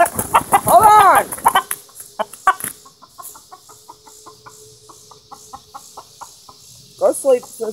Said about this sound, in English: Hold on, Rooster.